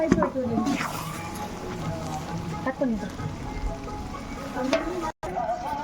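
Masala gravy sautéing in a pan for biryani, a steady close sizzle and frying hiss that runs under nearly continuous talking.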